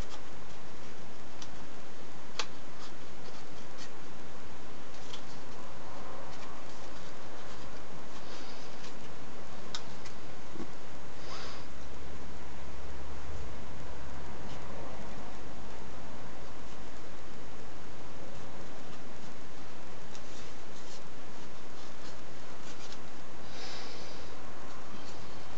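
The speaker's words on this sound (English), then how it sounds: "I'm gonna quickly just cut around the dress more than anything." Scissors snipping around a paper dress cutout, with small irregular clicks and snips over a quiet background, close up and without talk.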